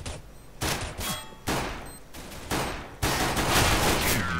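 Several sharp gunshots in a competitive CS:GO match ring out in quick succession, the loud cracks about half a second to a second apart, each trailing into reverberant noise with no voice.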